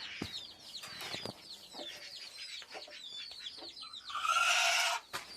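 A hen about to lay an egg clucks and cackles repeatedly in quick, agitated bursts, close by, with a louder squawking outburst near the end.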